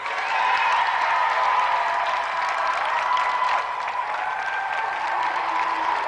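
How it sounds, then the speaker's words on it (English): A studio audience applauds two competitors at a video game show, a dense steady wash of clapping that holds for several seconds at a fairly loud, even level. "let's give another round of applause for two brilliant competitors, Andy Thomas and Jim McIver"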